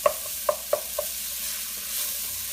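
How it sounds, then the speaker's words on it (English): Tomatoes and chili frying in a pan give a low, constant sizzle, with four quick utensil taps against the pan near the start and then a quieter stretch of sizzling. "So we'll kind of cook those tomatoes and that chili in there. Kind of fry that in"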